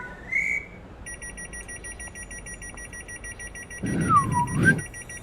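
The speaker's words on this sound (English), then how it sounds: "Blow your whistle." A train guard blows a departure whistle at a station platform in Train Sim World 6, one rising-and-falling shrill blast heard over steady station beeping and low background hum.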